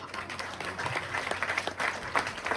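Applause from a seated audience at an RCM motivational seminar, steady scattered clapping throughout, fairly loud and close, with faint background murmur.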